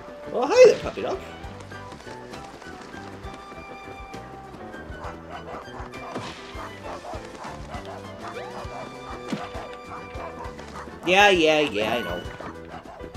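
A cartoon dog in Paper Mario The Origami King barks in short yips over bouncy game music, with a loud burst near the start and another near the end, and a voice speaking briefly.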